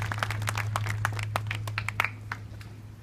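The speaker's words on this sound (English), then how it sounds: "They deserve your applause." An audience at a Windsor remembrance event gives scattered, light applause for an elementary school choir. The claps are sparse and irregular against a steady low hum, and they thin out toward the end.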